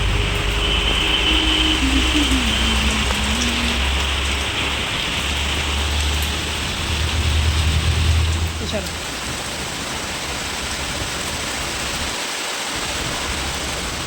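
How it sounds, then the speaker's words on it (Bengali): Rain pouring outside during a monsoon day, a dense, steady wash of falling water heard from indoors, continuous and fairly loud throughout with a faint low rumble early on. "বাইরে আবারও বৃষ্টি শুরু হয়েছে"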